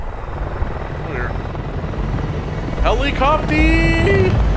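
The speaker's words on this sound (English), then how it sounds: "Helicopter!" Helicopter in the video game Shadow of the Tomb Raider, a loud steady rotor drone that builds toward the end, with a person speaking over it.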